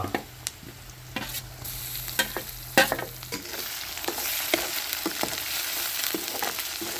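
Chopped onion and chili powder sizzle and fry in a pan while a spoon scrapes and stirs in several sharp clicks, a steady close crackle underneath with no talking.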